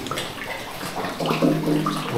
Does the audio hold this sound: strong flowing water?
yes